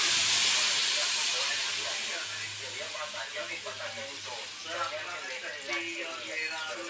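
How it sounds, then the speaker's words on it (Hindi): Maggi noodles and masala frying in a pan give a steady, hissing sizzle that starts loud and settles to a softer, crackling fry for the rest of the time. "अभी हमने सारी मैगी और मसाला डाल दिया, अभी ये फ्राई हो रहा है, थोड़ा मतलब ऐसे भून रहा है।"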